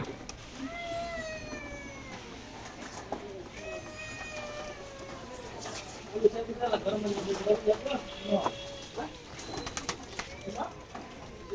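Pigeons coo and birds call nearby, with a rustle of wings and movement, while a person talks over the scene.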